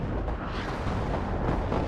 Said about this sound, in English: Artillery is actually hitting very well there.